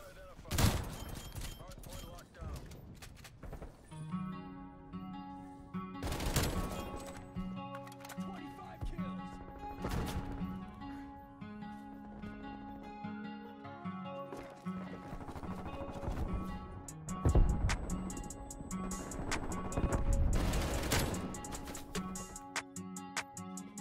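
Unsuppressed FARA 83 rifle fire in Call of Duty Cold War, loud sharp bursts recurring through the gameplay, with some quieter shots between, over game music and ambience.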